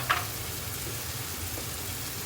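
Capsicum sautés in a pan with spice powder, giving a faint, steady, soft sizzle and hiss throughout the short stretch, with one small clink near the start and no voices.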